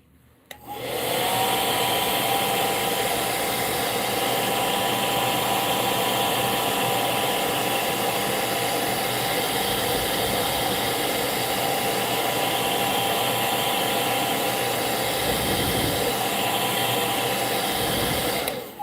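An airbrush spraying paint for koi patterns, a loud continuous hiss with the compressor running steadily underneath, close up and unbroken from just after the start until it cuts off at the end.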